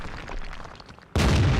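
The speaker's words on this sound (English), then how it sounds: "Yay, we put in a damaging shot." A tank's main cannon fires and strikes an enemy in World of Tanks while driving the Japanese Heavy Tank No. VI; the loud, boomy blast bursts in suddenly after quieter engine-and-battle ambience and rings on to the end.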